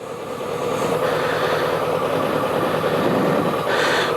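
A BMW K100 motorcycle engine running just after a choke start, a loud, steady, close mechanical drone with a fast, even pulsing that holds throughout.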